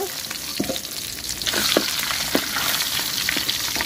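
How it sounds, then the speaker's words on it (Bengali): Loud, steady sizzling of pabda fish frying in oil, with scattered crackles and a few utensil scrapes mixed in. "তো মাছ ভাজা নিচ্ছি, তুলে নিব।"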